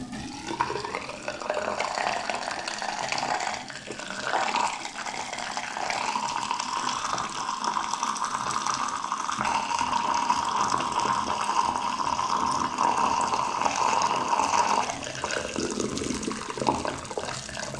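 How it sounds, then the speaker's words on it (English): Hot water pours steadily into a clogged bathroom sink drain, a continuous splashing, gurgling stream that holds for most of the clip before trailing off, close and fairly loud with no talking. "the last step is to pour hot water into the sink."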